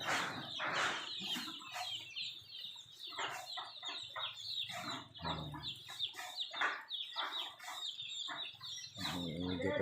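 Young chicks cheeping and clucking steadily while being given feed, many small birds close by with overlapping calls throughout.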